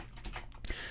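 Fast typing on a computer keyboard, a short close run of clattering keystrokes with no voice.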